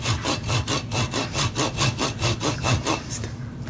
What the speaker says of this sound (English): is going to cut a small disc off the bottom of the tree